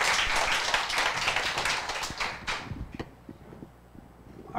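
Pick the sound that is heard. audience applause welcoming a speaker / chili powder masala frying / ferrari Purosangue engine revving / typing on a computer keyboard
audience applause welcoming a speaker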